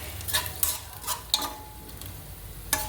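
Onion and whole spices cook in a pan for masale bhaat with a soft, faint sizzle, broken by several light scraping stirs of a utensil against the pan.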